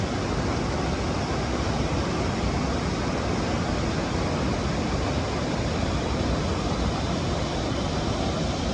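Eagle Falls pours into Emerald Bay at Lake Tahoe as a dense, unbroken roar of falling water, loud and close, steady throughout with no other sounds.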